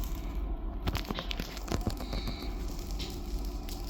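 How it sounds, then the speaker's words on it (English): Lava at an Icelandic lava show bubbling as an ice block beneath it turns to steam, heard as close, irregular crackles, pops and hissing bursts over a constant low roar. "these bubbles we have here in the front are just the ice block from underneath the lava, turning into steam and escaping through the lava"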